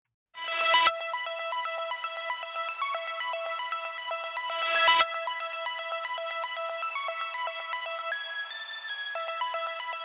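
A distorted synth part plays repeating bright, buzzy notes with a steady driving pulse, two sharp noisy bursts marking phrase starts, loud and alone with no voices.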